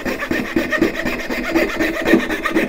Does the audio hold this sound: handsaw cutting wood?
yes